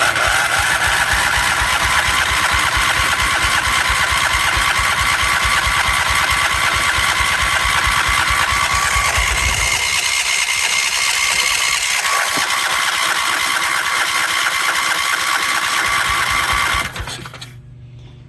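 An old Husqvarna yard tractor that sat unused for ten years cranks and runs with a loud, close, rapid mechanical chugging, briefly dropping lower midway before cutting off abruptly near the end.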